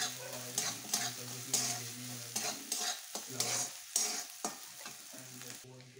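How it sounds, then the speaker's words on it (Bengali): Grated coconut frying in a pan for a Bengali drumstick and spice-paste curry, with repeated stirring scrapes in an uneven rhythm over a steady close sizzle. "এবার নারকেল কোড়াটা দিয়ে দিচ্ছি। নারকেলটা একটু ভেজে নেব।"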